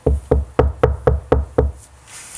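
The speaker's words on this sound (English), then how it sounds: "Maybe I can knock on the tent door." Seven evenly spaced knocks on a tent door in a children's story setting, close, sharp and hollow, in a steady rhythm before a short quiet tail.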